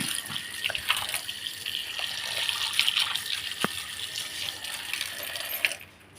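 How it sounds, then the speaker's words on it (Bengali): Running tap water pours steadily as starfruit is rinsed under it, a continuous close splashing stream that lasts several seconds before cutting off near the end. "কামরাঙ্গাটা ধুয়ে নেব কামরাঙ্গাটা ধুয়ে নিলাম"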